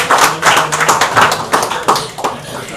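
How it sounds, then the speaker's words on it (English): An audience applauding to welcome a participant on stage, a few seconds of dense, close hand claps in a steady burst, with some voices mixed in. "So I would like to invite round of applause to invite him."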